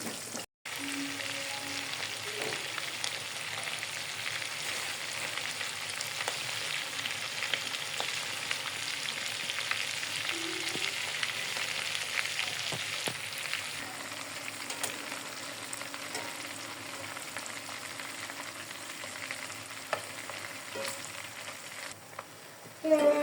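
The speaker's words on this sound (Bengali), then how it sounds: "আমি মাছগুলো ফ্রাই করে নিয়েছি" Prawns fry in hot oil in a pan for a Bengali malaikari, giving a steady, fairly loud sizzle that runs unbroken for over twenty seconds with a few faint pops and no talking.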